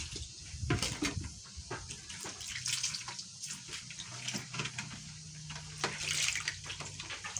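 Water poured and splashed while a child waters plants, irregular bursts of splashing and trickling with quieter gaps between, fairly close and soft.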